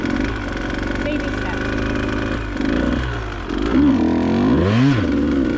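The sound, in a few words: motorcycle engine revving during wheelie practice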